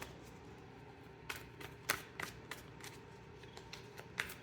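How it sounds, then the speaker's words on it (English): Oracle cards are shuffled and drawn by hand, with soft riffling and a series of crisp, irregular slaps and flicks close to the mic in a quiet room. "let's pull some oracle cards"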